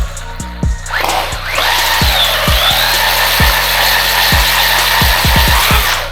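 An MJX Hyper Go 16207 RC buggy drives off, its electric motor rising into a loud, bright whine that holds steady, punctuated by repeated sharp clicks and knocks from the chassis.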